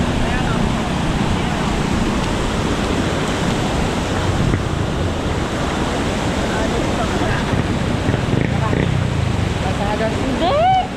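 Strong floodwater rushes past in a steady, loud broadband roar during a river rescue, buffeted by wind on the microphone, with faint voices in the background.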